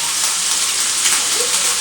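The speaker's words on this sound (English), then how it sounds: "we're going to render the oil out of the bacon. And that's just going to cook up nice and golden brown" Bacon sizzles steadily in hot rendered fat in a pan, a continuous, close, even crackling hiss with no pauses and no voices.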